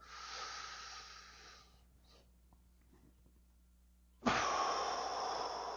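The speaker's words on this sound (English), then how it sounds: "I'm going to breathe in as much as I possibly can" A long, deep inhalation before playing trumpet: a loud airy breath drawn in that fades, a quiet pause, then a sudden strong rush of exhaled air that continues steadily.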